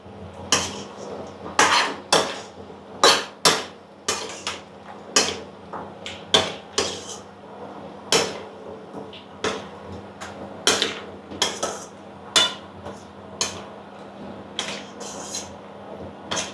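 Pumpkin and pork belly being stir-fried in a pan with a splash of water over high heat, heard as repeated sharp metallic scrapes and clanks of a spatula on the pan in an irregular rhythm, close and fairly loud with no talking.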